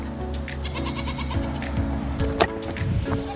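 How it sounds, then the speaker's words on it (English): Several goats, including a Nigerian Dwarf, bleat in short, wavering calls, some overlapping, close by with light farmyard noise in the background. "Silly goats."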